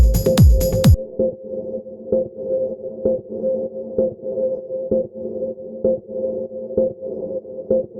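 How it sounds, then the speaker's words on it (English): Techno drum loop processed in Ableton Live, with a compressor on a tempo-synced reverb so the tail swells between hits: steady pulsing beats about once per second with a washy sustained reverb bed, after a brief bright burst at the start. "that will accentuate that reverb tail"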